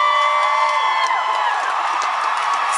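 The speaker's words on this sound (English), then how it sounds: "Now you're gonna cheer so loud for her song." A large concert crowd at the Molson Amphitheatre cheers and screams, a dense, sustained wash of high-pitched voices and whoops rising and shifting, loud and continuous without pause.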